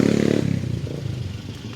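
A 2012 Daihatsu Gran Max blind van engine with its catalytic converter removed revs loudly up close, a rough rattling drone that drops to a steady, throbbing idle.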